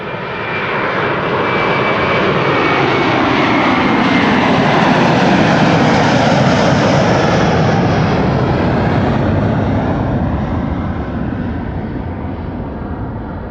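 KLM jet airliner departing Amsterdam Schiphol on runway 24 in December, a loud, broad engine roar that swells and holds near before slowly fading as it climbs away.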